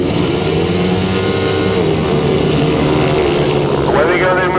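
500cc solo grasstrack motorcycles racing at a 2008 Tallington March meeting, a loud continuous engine drone with rising and falling revs, heard under a commentator's talk.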